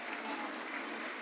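Steady, dense applause from an audience at a stage felicitation ceremony honouring guests, a continuous even wash of clapping with no gaps or pauses.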